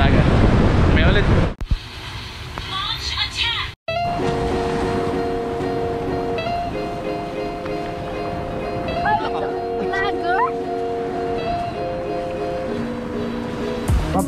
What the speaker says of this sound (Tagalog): Papakita ang dagat.